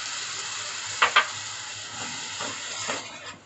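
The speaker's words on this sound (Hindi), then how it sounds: "अब मैं इसमें अपने टमाटो प्यूरी ऐड कर दूंगी।" Ground tomato puree meets frying onions in a pan for rajma masala, giving a steady, broad sizzling hiss with two quick clicks early on and soft stirring movements afterward.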